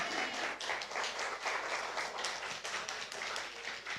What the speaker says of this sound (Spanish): Dar un aplauso fuerte al Señor